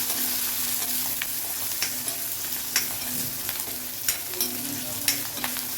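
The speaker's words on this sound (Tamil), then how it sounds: "பூண்டு, சின்ன வெங்காயம், கொஞ்சமாக பெருங்காயத்தூள் இதெல்லாம் போட்டு நல்லா வதக்கிக்கோங்க ஆயிலில்" Garlic, shallots and a pinch of asafoetida sauté in hot oil with a continuous close sizzle, punctuated by sharp intermittent scrapes and clinks of stirring in the pan.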